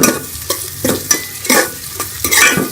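Onions stirred and frying in ghee, with a steady sizzle broken by repeated scraping strokes of a spoon roughly every half second.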